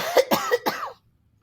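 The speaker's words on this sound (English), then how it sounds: "hang on, I'm going to cough" A single person gives a quick burst of four short coughs in under a second, close and clear, followed by silence.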